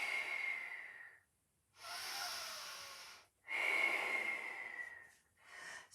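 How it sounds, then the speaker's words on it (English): Audible breaths in and out during a pilates exercise, three long airy hissing exhalations and inhalations separated by brief silences, close and quiet. "So we have a breath in, a breath out, a breath in, a breath out"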